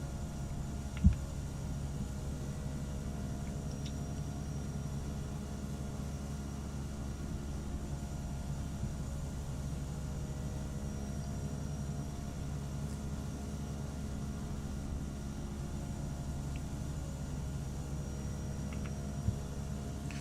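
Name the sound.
Cessna 208 Caravan engine throttled to flight idle, FSX video game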